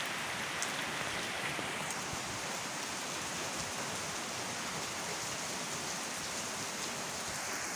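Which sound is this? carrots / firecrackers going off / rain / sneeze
rain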